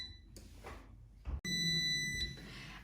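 An air fryer signals the end of cooking with a bright electronic beep tone that starts partway through and holds steadily, heard close by in a quiet kitchen.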